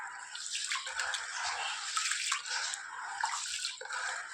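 Rice being washed by hand in a bucket of water, with steady sloshing and splashing that runs close and continuous throughout.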